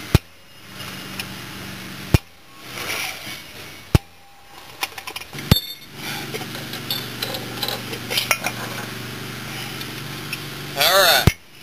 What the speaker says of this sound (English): Use impact screwdriver, hammer screwdriver to get the brake housing off.